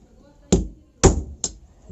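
Three sharp metallic hammer blows strike a centre punch set on a metal fitter's workpiece in a workshop, loud and close, spaced about half a second apart with short ringing decays.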